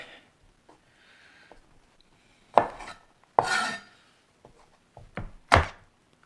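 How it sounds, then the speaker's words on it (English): A knife is pressed down sharply onto garlic cloves on a cutting board, giving several separate, crisp thuds spaced a second or so apart against a quiet kitchen. "nice sharp thrust down towards the cutting board. And I should get a nice smashed piece of garlic."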